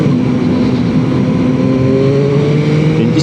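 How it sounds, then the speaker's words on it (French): A 2021 Yamaha MT-09 with its 887 cc three-cylinder engine running loud and close, a sustained throaty drone whose pitch climbs smoothly as it accelerates, heard alone without talk. "Et là, c'est avec les 887 cm3, ce 3 cylindres fonctionne vraiment étonnamment fort."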